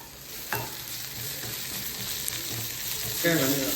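Sliced onion frying and stirred in a pan for mutton bone soup, with a steady sizzle and a few spoon scrapes, growing slightly louder near the end.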